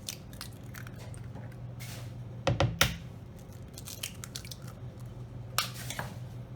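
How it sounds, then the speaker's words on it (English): Two eggs are cracked into a bowl for Thai chicken fried rice. A pair of sharp close cracks comes near the middle, with smaller taps and wet clicks around them in a quiet room. "I'm going to crack in 2 eggs."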